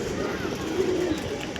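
Andhra Star Kalanka pigeons at a home pigeon sale coo in low, steady murmurs, close and continuous through the short moment, with no clear talk over them.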